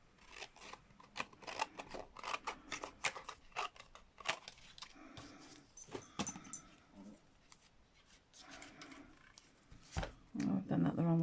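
Scissors snipping through craft material, a run of sharp, close cuts repeating irregularly, with soft rustling and handling noises between them.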